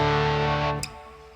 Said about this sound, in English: For example, distortion.